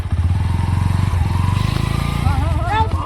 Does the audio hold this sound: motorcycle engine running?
yes